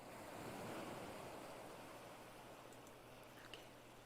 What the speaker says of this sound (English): I need to be able to hear my ocean waves a little bit without hearing my channel.